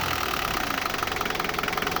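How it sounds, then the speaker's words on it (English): A diesel engine on an overland vehicle, just cleared of contaminated fuel, idles steadily with a smooth, even rhythmic beat and a close, continuous mechanical hum throughout. "This is how the engine ought to run."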